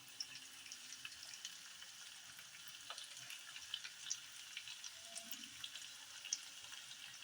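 Baby potatoes sautéed Punjabi style in a pan give a faint, steady sizzle and hiss with occasional soft stirring scrapes, quiet and continuous throughout.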